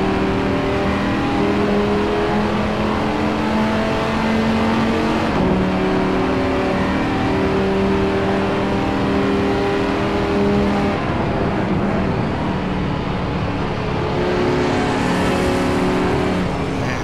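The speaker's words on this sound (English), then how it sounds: "Just ahead of Chuck, these guys are battling for 2nd spot." GT race cars in a racing video game at Monza, a dense continuous engine roar with shifting revs as cars battle closely for position, loud and steady with no pauses or speech.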